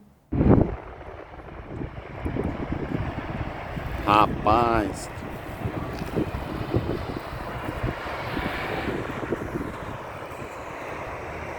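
Strong wind gusts and rumbling wind noise sweep across the microphone at a wildfire in an open rural region, steady throughout, with a voice speaking briefly over it.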